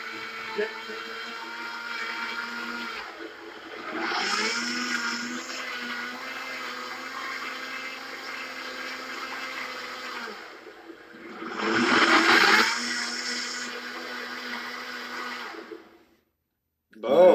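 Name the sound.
Brothers Ultra Blender running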